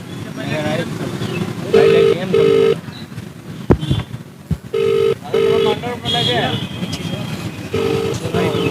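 An outgoing telephone call rings back repeatedly without being answered, steady paired tones recurring at regular intervals under loud chatter from a crowd of street vendors.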